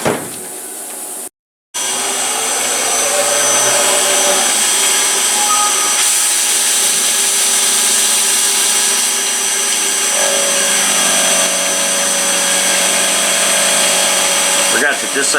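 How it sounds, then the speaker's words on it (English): A PM727MXL milling machine drilling a through hole, boring with an end mill and facing: a loud, steady grinding machining roar that cuts out briefly near the start, then runs on continuously. "we're going to drill a through hole, come back and do a boring operation with an end mill, and face it off"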